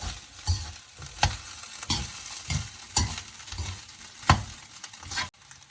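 Chicken fried rice, Sri Lankan style, is stirred in a hot pan with steady, repeated scraping strokes about every second. The strokes sit over a continuous sizzle, close and clear, with no voices.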